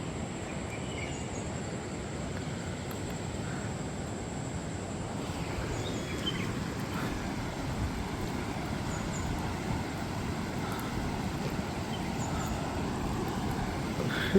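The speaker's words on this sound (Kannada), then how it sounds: "ಒಂದು ಏರೋಪ್ಲೇನ್ ಹೋಗ್ತಾ ಉಂಟು ಒಟ್ಟಿಗೆ." A steady, distant airplane engine drone hangs over a continuous background hiss of flowing dam water, with faint insect-like chirps scattered through, holding evenly for the whole stretch.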